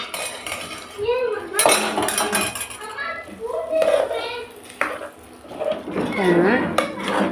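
A spoon clinks and scrapes against a metal vessel while curd rice is mixed, with irregular metallic taps and stirring noises under a person's ongoing talk.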